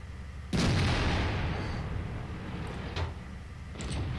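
Tank cannon fire in a video game battle involving an IS-7 heavy tank: a sudden heavy boom with a long rumbling decay, followed by a fainter thud and another muffled impact.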